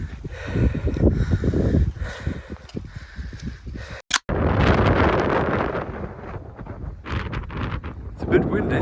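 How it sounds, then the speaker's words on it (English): Strong gusts of wind buffet the microphone on an exposed hillside on the Isle of Mull, roaring in loud waves with a brief sharp knock and one short break, while people talk over it. "It's a bit windy, but we made it."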